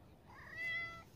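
A pet cat gives a single short, fairly quiet meow close by against a quiet background.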